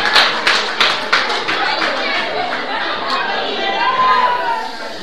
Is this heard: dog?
no